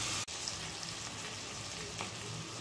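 Tomatoes fry in a pan for chicken curry, a faint steady sizzle with soft crackling and one brief knock near the start.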